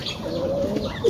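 A pigeon in its newly built loft gives a short, low, close coo over a little background hiss.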